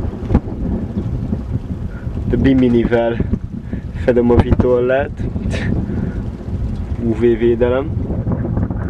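Northwest wind gusts steadily around a sailboat lying at anchor, a continuous low rush of wind noise beneath someone talking close to the microphone throughout.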